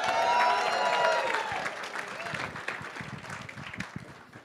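Audience at a Rotary club meeting cheering and applauding loudly, a dense wash of clapping and shouts that gradually thins into scattered claps with a few voices over the top.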